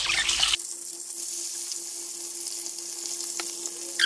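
Chermoula hitting hot oil gives a steady, close sizzle with a bright hiss that starts loud and settles into a constant fry, over a faint continuous hum.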